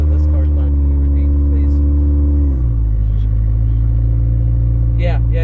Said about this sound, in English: Sorry, this car's loud.